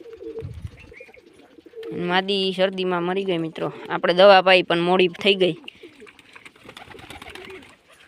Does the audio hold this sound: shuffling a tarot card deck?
no